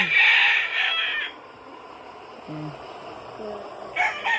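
A rooster crows loudly near the start, followed by softer clucking from chickens and gamecock stags, with another short crow near the end.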